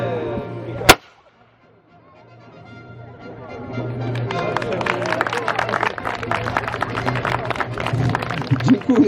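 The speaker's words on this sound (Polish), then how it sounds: "pierwsze wystrzały takie jakieś nieśmiałe" A single sharp, loud report from a historical firearm fired by reenactors of a 17th-century banner at Branicki Palace in Choroszcz, followed by a rising murmur of crowd noise and chatter.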